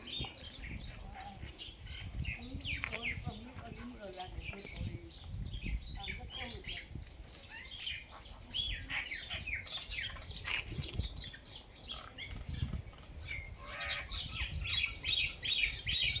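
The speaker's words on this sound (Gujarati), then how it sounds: "વડલામાં પક્ષીઓ કલશોર કરે છે" Many small birds chirp and twitter continuously from a banyan tree overhead on a farm, a busy chorus with occasional wing flutters and faint voices underneath.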